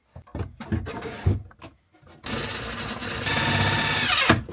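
Cordless power drill drives screws into a storage unit inside a small RV camper, a few short taps and clicks first, then a steady whirring run that speeds up and cuts off.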